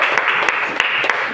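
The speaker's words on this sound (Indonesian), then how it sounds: "tepuk tangan dulu" Brief applause from a gathering of teachers and students at a positive-school-culture dissemination session at a senior high school in Sarolangun, dense clapping with a few sharper claps standing out, loud and close.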